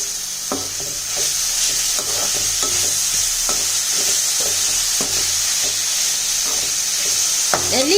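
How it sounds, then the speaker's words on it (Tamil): Grated amla (Indian gooseberry) sautés in a pan with a steady close sizzle and hiss, punctuated by repeated scraping stirs of a spatula throughout. "நெல்லிக்காய் போட்ட பிறகு ரொம்ப நேரம் வதக்க வேணாம்."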